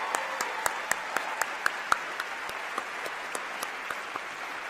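An audience at a county inauguration ceremony applauds with a steady, moderate patter of clapping, with a few sharper nearby claps standing out and a slight fade toward the end.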